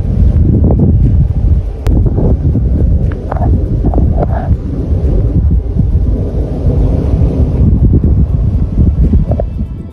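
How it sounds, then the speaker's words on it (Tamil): A sandstorm in New Mexico roars with strong, steady wind battering the microphone, a loud low rumble with gusting surges throughout and no voices. "நியூ மெக்சிகோவில் உருவான மணர் புயல் ஒன்றை தான் இப்போ நம்ம பார்த்துக்கிட்டு இருக்கோம்."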